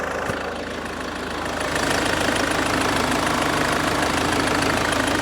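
A 2014 Range Rover Evoque 2.2 four-cylinder with four-wheel drive runs at a steady idle, heard up close with a constant, dense mechanical clatter and hum.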